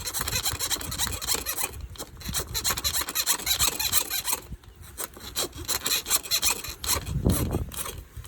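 An auger bores through a wall to run wiring for a pool autofill, making a harsh rubbing, grinding scrape. The scraping comes in uneven strokes up close.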